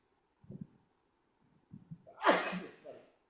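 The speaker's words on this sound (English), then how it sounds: "What a huge sneeze coming because of smoke." A single loud, close sneeze brought on by smoke, with a sharp explosive burst after a few faint breaths or murmurs, then a brief trailing exhale.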